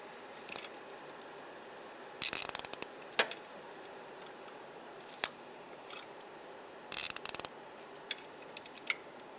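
A wrench ratchets in short clicking bursts on the serpentine belt tensioner of a Mazda CX-9 engine, with sparse clicks scattered between two main rapid runs, close and fairly crisp over a quiet background.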